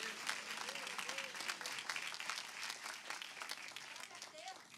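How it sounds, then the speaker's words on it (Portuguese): A church congregation claps together in praise during a service, a dense, lively patter of many hands sustained at a moderate distance with faint voices mixed in. "Isso, aplauda o Senhor."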